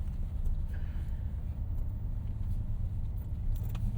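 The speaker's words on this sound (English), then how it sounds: "we are off-roading the Charger" A 2026 Dodge Charger Scat Pack four-door rolls over a dirt track, heard from inside as a steady low rumble of engine and tires with faint rattles on top.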